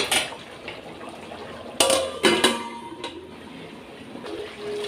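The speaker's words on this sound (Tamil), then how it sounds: "அதுக்குள்ளே தட்டு போட்டு கொஞ்சம் மூடி விட்டுடலாங்க கொஞ்ச நேரம்." A few metallic clanks as a lid settles onto a pot of simmering chicken gravy, two sharp clangs close together over a low bubbling background.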